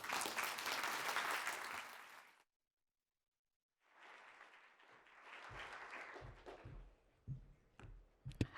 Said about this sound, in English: please give a big applause to Tania Montalvo